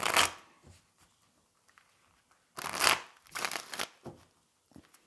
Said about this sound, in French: je vais réaliser avec le tarot pré-raphaélite pour vous. Et on va faire un tirage en croix